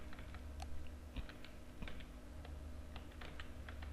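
Soft, scattered keystrokes as code is typed on a computer keyboard, a quiet, irregular tapping over a low steady room hum.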